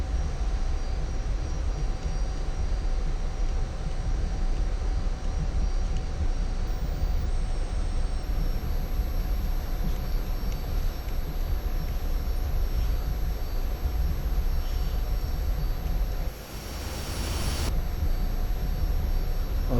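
Pakistan Air Force F-86F Sabre jet engine running at takeoff power, a loud continuous roar with a steady whine, holding constant nearby and dipping briefly near the end.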